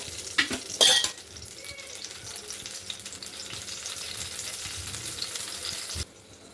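Chillies frying in oil in a pan, a steady loud sizzle after a few clanks of utensils against the cookware, cutting off abruptly near the end, with no talking.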